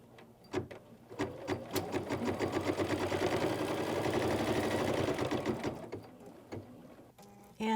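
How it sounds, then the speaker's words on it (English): An embroidery sewing machine stitches the outer edge of a fabric triangle in a quilting hoop. It starts with a few clicks, then runs as a steady, fast mechanical whirr of needle strokes, and winds down with clicks at the end. "And now it will stitch the outer edge of that triangle."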